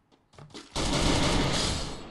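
A few faint shots, then a sudden loud burst of rapid gunfire that continues steadily, like video game shooting.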